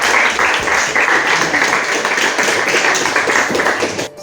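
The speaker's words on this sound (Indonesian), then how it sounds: "Tepuk tangan untuk kelompok" Schoolchildren in a classroom applaud the winning group 3, a loud, sustained burst of many clapping hands that holds steady and then tapers off at the very end.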